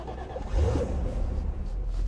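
A Porsche 928 engine turns over and catches, settling into a steady low rumble that stays close and fairly loud throughout.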